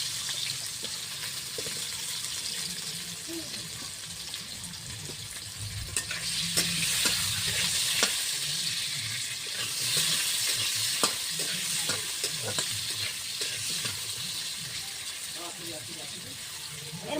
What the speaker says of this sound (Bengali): এখন কলাটা ভেজে নিই।